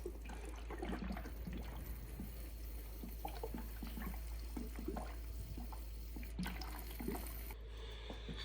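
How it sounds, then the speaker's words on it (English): Water poured into the coolant system of a Dodge Caravan 3.6 during thermostat housing replacement, a faint steady trickle and splash with a low hum beneath. "we're adding some water"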